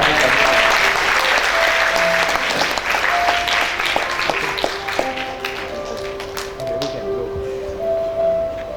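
Wedding guests in a church applauding a couple, a loud, sustained burst of clapping that thins and fades toward the end, with a few sustained tones and scattered thumps beneath.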